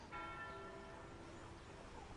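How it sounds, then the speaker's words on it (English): Church bells in a period drama ring with one faint, distant struck tone that hums and slowly decays, heard alone over a soft background. "I like the bells. I like to hear that there is life waiting for us."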